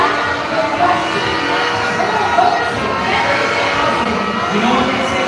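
Crowd at the Kansilay Festival finals in Silay City applauding and cheering for Barangay Una: a dense, steady wash of clapping and shouting voices, loud and continuous throughout.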